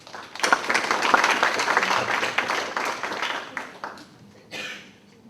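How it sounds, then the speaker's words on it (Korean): Warm audience applause greets a pastor stepping up at a migrant mission forum in Busan, a dense, sustained round of clapping that thins out after about four seconds, with a brief final burst. "나오실 때 뜨거운 박수로 환영해 주시기 바랍니다"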